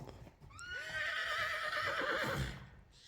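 A mare neighs in a long, loud whinny lasting about two seconds, with a faint clip-clop of hooves around it, at a horse sale.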